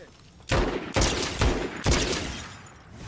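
Gunfire in a video game: four loud, sharp shots at roughly half-second intervals, each trailing a short echoing tail, followed by quieter ambient noise.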